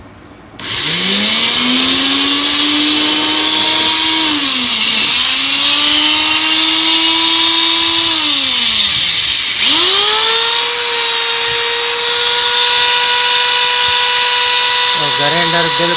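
A rewound Pro Power grinder armature runs in its final test, a loud, steady motor whine that rises to speed, dips twice as it is switched off and back on, then keeps droning near and constant.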